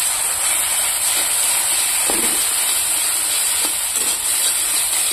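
An egg fries in a pan with an even, close hiss that keeps up throughout, broken by a couple of light clicks from a utensil against the pan.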